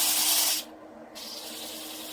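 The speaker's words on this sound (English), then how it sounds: "Doing the last bit of shaping with 80 grit." An 80 grit pad sands a thin wooden bowl on a lathe with a steady rough hiss. The hiss is loud at first, drops away for a moment, then returns at a softer level.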